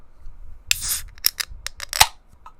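A beer can pops open up close with a sharp crack and a short fizzing hiss, followed by a few small clicks and crackles. No one speaks.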